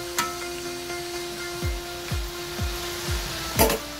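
Diced chayote drops into a hot pan already holding papaya, setting off a steady soft sizzle of frying with a few stirring scrapes and light clicks over it.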